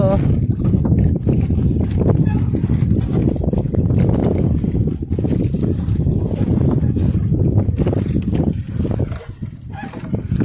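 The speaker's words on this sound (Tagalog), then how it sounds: "May pabugso-bugso pa rin yung hanging amihan" Gusty northeast monsoon amihan wind buffets the microphone on a small fishing boat at sea. The rough, roaring bursts rise and fall unevenly, and voices talk over the wind.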